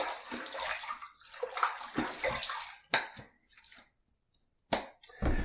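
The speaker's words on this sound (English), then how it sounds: "Let me throw a little bit of water on the face and we'll apply the lather." Water splashed by hand onto the face during a wet shave with classic barbershop shave soap, several close, brisk sloshing splashes in bursts with short pauses between.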